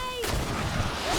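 A grenade explodes in GreedFall with a sudden broad blast that cuts off a tonal game sound, followed by a sustained rumbling decay under faint background audio.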